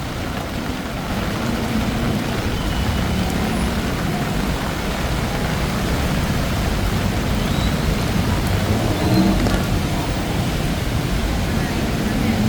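Heavy monsoon rain pours down at night on a Bangkok city street, making a dense, constant roar mixed with the low rumble of traffic.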